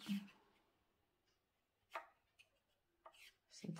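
Paper for a mini scrapbook notebook cover is trimmed to 7.5 cm with a few sharp cutting strokes, close and quiet, separated by pauses of near silence.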